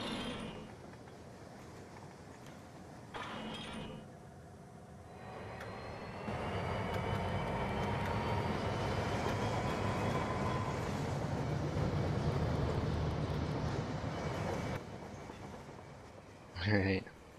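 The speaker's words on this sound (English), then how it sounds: "Now we should have a good amount of trains running around all over the place now, right?" Model trains in the Rolling Line video game produce a low rolling rumble that swells and holds for several seconds at moderate distance before fading, with quieter ambience around it.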